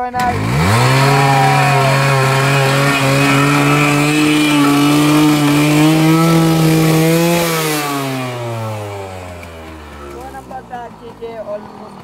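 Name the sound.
motorbike engine being started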